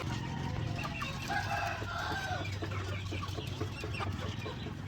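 Chickens kept beneath a raised poultry house cluck continuously in a dense, overlapping chorus, moderately close and with no talk.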